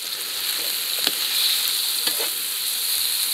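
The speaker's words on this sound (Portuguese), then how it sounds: "E deixa marcar essas carnes, deixa pegar cor aqui em tudo." Meat sears in a pan for a rustic paella, a steady close sizzle and hiss throughout with a couple of brief stirring scrapes.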